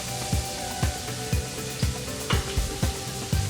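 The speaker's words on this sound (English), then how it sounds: "season our pot with some onion" Chopped onion sizzles in olive oil in a pot, a steady frying crackle with a regular pattern of thumping stirs or taps roughly every half second, close and moderately loud with no talking.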